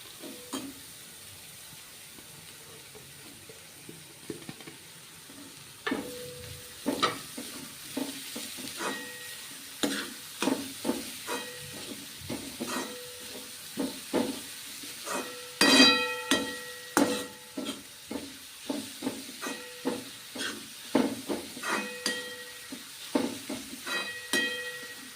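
Green onion cooking in a pan, a steady sizzle with repeated sharp stirring scrapes and taps of a utensil against the pan, close and fairly loud, no talk.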